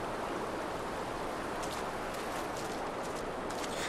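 Water rushes steadily in the Far Cry Primal video game, a continuous broadband hiss like a stream, with a few brighter splashy bursts partway through.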